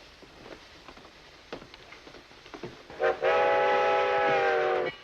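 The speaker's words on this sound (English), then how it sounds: "Always is when the train comes in." A train pulling into a station in a 1948 film noir: faint clanks and rumble of railcars, then a loud sustained steam whistle for about two seconds, with no talking.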